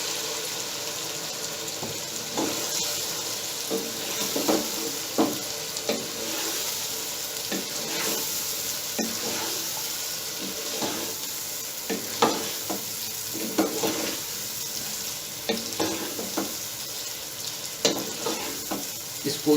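Boiled goat brain (maghaz) frying in a spice masala in a pan, a steady close sizzle broken by repeated stirring scrapes and spoon clatter, with no voices.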